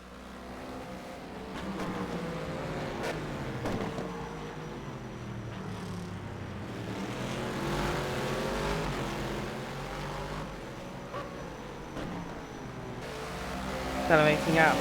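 A race car in a sim racing game at Bahrain accelerates, the engine note climbing through gears in repeated rising sweeps, moderately loud beneath a commentator's talk.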